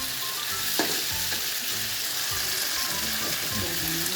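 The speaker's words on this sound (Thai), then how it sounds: "ใส่เต้าหู้ขาว ทอดให้ไหม้เลยครับ" White tofu and pork blood fry in a pan with steady, close sizzling, while a spatula scrapes and clacks against the metal now and then as the food is stirred.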